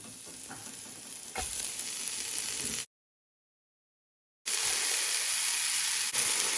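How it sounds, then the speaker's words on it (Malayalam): Thinly sliced carrot and other vegetables sautéing in a pan for hot and sour chicken soup, a loud, dense frying hiss with stirring, broken by a brief silent gap before the sizzle resumes. "നമുക്ക് കുറച്ച് വെജിറ്റബിൾസ് ഒന്ന് സോട്ട് ചെയ്തെടുക്കാം."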